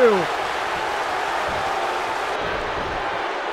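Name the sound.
wrestling crowd cheering in WWE 2K15 video game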